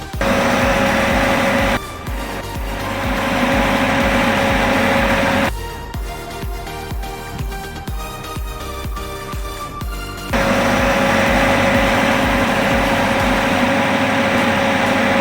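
A Detroit Series 60 diesel genset engine running during a cylinder cut-out test, a loud steady drone with a constant whine, briefly shifting in tone twice as it runs on.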